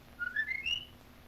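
A person whistles a short rising tune of a few quick notes, clear and fairly close, with no talking over it.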